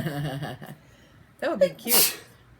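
A single sharp sneeze bursts out near the end, loud and close, after a stretch of casual talk among sisters chatting over cross-stitch.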